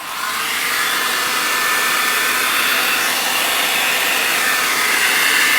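An air dryer blows steadily onto a card to push wet colours around, a loud, close, continuous hiss of rushing air with an even whine that holds for several seconds, no voices.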